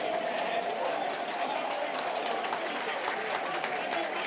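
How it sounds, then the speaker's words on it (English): Travelling Millwall football supporters applaud in an away stand at a Watford match, a steady, fairly distant wash of clapping and crowd noise with a commentator talking over it. "Rightly being applauded by the travelling support"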